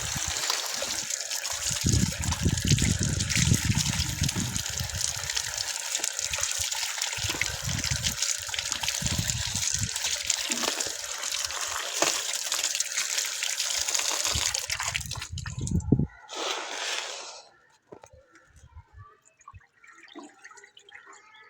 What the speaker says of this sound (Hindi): अब इनको अच्छे से धो लेंगे।